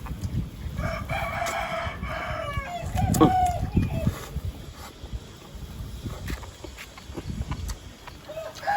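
A rooster crows at a rural outdoor spot, a loud nearby cock-a-doodle-doo rising mid-clip amid clucking hens and low rumbling background noise, with someone talking under it.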